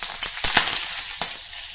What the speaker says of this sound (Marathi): मेथी दाणे थोडे तांबूस झाले की आपण यामध्ये 4 ते 5 कढीलिंबाची पानं किंवा कढीपत्त्याची पानं घालूया